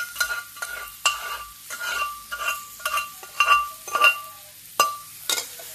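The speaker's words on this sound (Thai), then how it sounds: "คั่วพริกคั่วกระเทียมให้หอม" Chili and garlic being stir-fried in a pan for drunken-style eel, with a spatula scraping and clinking against the metal in quick, uneven strokes over a light sizzle, close and fairly loud.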